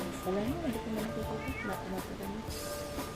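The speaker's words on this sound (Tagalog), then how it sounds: "Miyaw daw." A big, fat ginger tomcat meows a few times near the start, outdoors during a walk on a mountain trail, with people's voices and outdoor noise around it.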